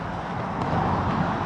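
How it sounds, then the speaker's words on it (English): Steady roar of highway traffic beside the restored Lucille's Phillips 66 gas station on Route 66, a continuous broadband wash of passing vehicles with no distinct pass-bys, loud and constant. "Sorry about the noise, because there's a highway right there."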